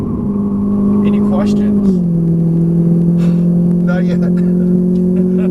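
A Ferrari 458 Italia V8 drones steadily on a racetrack, a loud continuous engine hum that dips slightly in pitch partway through, while people talk briefly over it.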